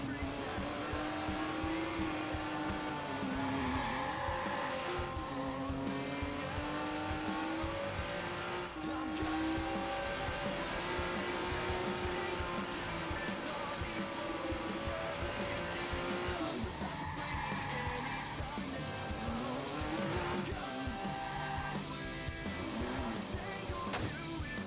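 Video game car driving in Watch Dogs on PS4, with a steady engine drone and repeated tire squeals and skids as the handbrake is pulled, continuing at even volume for about twenty-five seconds.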